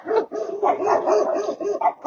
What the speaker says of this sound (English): There's dogs barking in the background